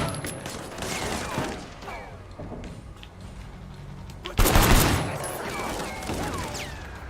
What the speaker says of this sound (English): Not bad for pistol shooting.